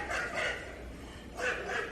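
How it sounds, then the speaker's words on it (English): Two short bursts of a dog's bark or bow-wow, spaced about a second apart, fairly soft and slightly muffled over a steady background hiss, with no voices. "A dog, right?"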